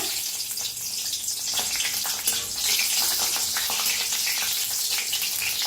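Seeds roasting in hot oil for a Marathi brinjal bharit, a loud, dense, continuous sizzle and crackle close by with no pauses.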